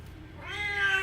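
A cat giving birth lets out a single drawn-out meow that rises and swells in the second half, close and fairly clear with no talking over it.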